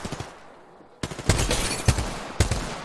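Weapon fire in Apex Legends comes in bursts: a few light shots, then two loud rapid volleys of close gunfire separated by a short pause.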